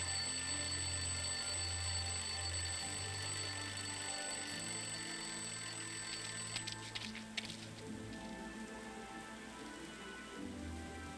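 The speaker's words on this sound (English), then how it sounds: "Why would someone throw away a perfectly good alarm clock?" An alarm clock rings continuously from inside a rubbish bin in the adventure game Lost Horizon, a steady loud metallic jangle lasting the whole span that thins slightly toward the end, with no talking.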